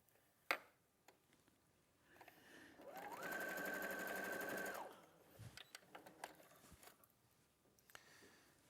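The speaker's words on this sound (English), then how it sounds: "And then we'll sew the rectangle at the bottom and the rectangle at the top." A sewing machine stitches a fabric rectangle with a 1/4 inch seam allowance, whirring steadily for about two seconds between quieter clicks and handling noises.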